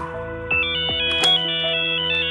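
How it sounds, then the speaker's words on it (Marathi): A mobile phone ringtone plays a bright, repeating electronic melody for a couple of seconds, loud and close, with no voices over it. "दादा, ते तुमचा फोन वाजतो."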